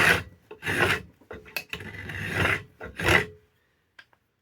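A hand tool cuts across an ash axe handle, throwing shavings in a series of close, rasping strokes, each a scraping burst with short pauses between, fading to quiet at the end.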